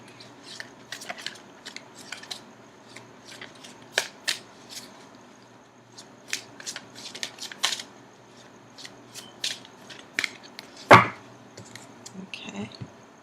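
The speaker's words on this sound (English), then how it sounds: "I'm going to continue shuffling for just a few more seconds" Tarot cards are shuffled by hand in crisp, intermittent riffling bursts, close and clear in a quiet room, with one sharper snap near the end.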